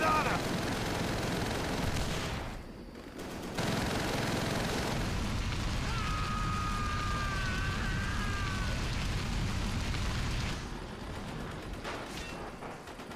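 Dense, continuous gunfire and explosions fill a Call of Duty: World at War battle, loud and sustained, with brief lulls and shouting soldiers under the din.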